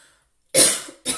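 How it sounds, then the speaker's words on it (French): A woman with a cold gives two sharp, close coughs after a moment of silence: a longer harsh burst followed by a shorter one. "Comme je suis encore enrhumée, je tousse encore"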